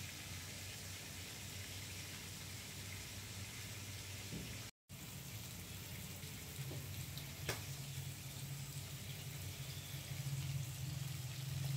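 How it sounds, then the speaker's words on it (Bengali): Onions and garam masala frying in oil for pulao, a steady soft sizzle and crackle heard close and fairly quiet, with no talking. "পোলাওয়ের জন্য আমি পেঁয়াজ আর গরম মশলাটাকে একটু ভেজে নিচ্ছিলাম তেলের মধ্যে"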